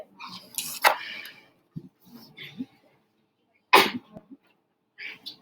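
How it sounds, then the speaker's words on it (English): Sharp, explosive bursts of coughing or sneezing come in separated fits, close to the mic, with quiet pauses and faint breaths between. "I'm coughing."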